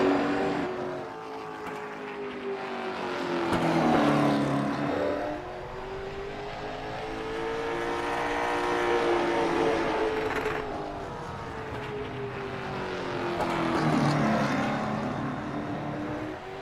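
Simulated race car on a qualifying lap around Martinsville Speedway in a racing video game: a close engine drone swells and falls in three long cycles as it brakes and accelerates through the corners.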